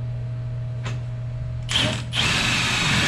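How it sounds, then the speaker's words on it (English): Power tool driving a bolt through a Kia EV6 strut and steering knuckle: a short whirring burst, then a louder sustained rattling whir with ratcheting, up close over a steady low hum. "I'm going to attempt to screw this in on the other side"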